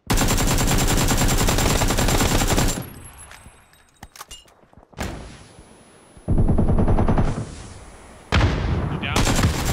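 Gunfire in the video game PUBG, loud bursts of rapid automatic shots in several sustained volleys separated by quieter gaps with scattered single cracks, and players talking briefly between bursts.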